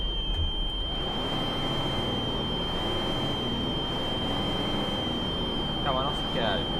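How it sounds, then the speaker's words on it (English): A loud, steady high-pitched alarm tone sounds without a break inside the OMSI 2 bus simulator, over a continuous low rumble of the bus. Brief chirps come through near the end. "You can probably hear the really loud alarm at the moment."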